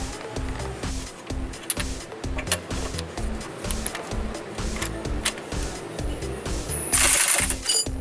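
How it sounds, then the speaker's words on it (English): Rapid mechanical hammering rattles on without a break, an impact wrench tightening the lower CV axle bolt with an 18mm socket on a Dodge Stratus or Chrysler Sebring, close and loud, with a brief sharper burst near the end. "Now if it's slipping with the impact and you cannot get it"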